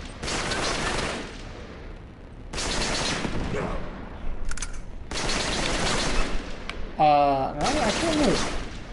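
Grenade explosions and gunfire in the video game Uncharted: Drake's Deception: loud, dense bursts of shooting and blasts in several long volleys with short gaps, ending in a sharp crack.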